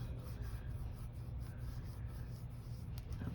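Dried glue being rubbed off paper ephemera by hand, a steady soft scraping and rasping close up and continuous, with no talking.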